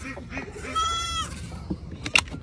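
Goats bleating at an animal sanctuary during a morning wake-up, a drawn-out nasal call in the middle followed by a brief sharper cry near the end, with faint background noise between.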